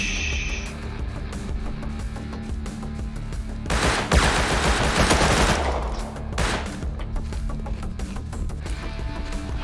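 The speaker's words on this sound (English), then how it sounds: "Oh, we're getting shot up." Gunfire in the video game Rust: bursts of automatic fire rattle over a constant background, swelling into a loud, sustained volley in the middle and another short burst soon after.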